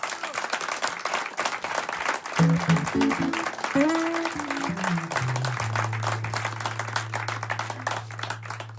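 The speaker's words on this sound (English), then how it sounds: "Give them a round of applause." Audience at a live studio concert applauding steadily after a singer's set, dense clapping throughout, with a sustained musical tone and a few tuning notes sounding underneath partway through.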